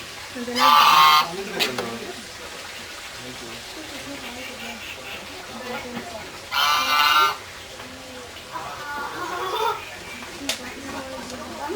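Two short bursts of goose honking stand out, a few seconds apart, amid ongoing speech and background noise.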